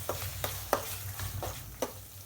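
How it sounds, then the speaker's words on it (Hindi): Mustard masala being fried in oil over medium heat for a fish curry, a soft sizzle with several sharp spoon-stirring scrapes at irregular intervals, close and fairly quiet, no talking. "तो खूब बढ़िया से मसाला के भूजे के छे मीडियम आंच पर में।"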